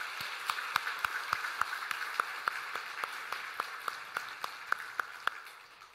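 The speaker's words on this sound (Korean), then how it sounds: "우리 다 함께 큰 박수로 격려하도록 하겠습니다" Congregation at a Christmas Sunday church service claps in a slow, regular unison rhythm, roughly three sharp claps per second over a soft background wash, fairly quiet and fading toward the end.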